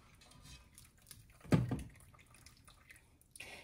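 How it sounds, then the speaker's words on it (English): Pickling liquid for Mexican carrots in escabeche is poured into a container in a short, quiet splash with faint trickling around it. "then I'll pour the liquid in"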